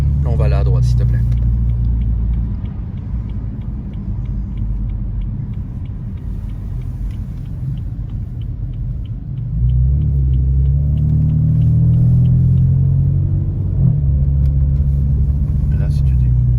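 A 650-horsepower car on a rainy road, its deep engine rumble droning from inside the cabin and swelling louder as it accelerates partway through, with voices talking over it.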